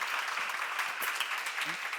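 A church congregation claps during a sermon at a Korean church seminar, a dense, steady burst of applause for about two seconds, fairly close, without a voice clearly above it.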